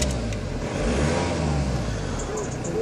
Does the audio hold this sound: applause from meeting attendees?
no